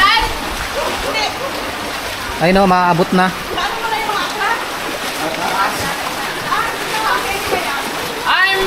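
Floodwater flowing and splashing during severe flooding in Occidental Mindoro, a steady rushing wash with a louder splash burst near the middle, heard under ongoing conversation throughout.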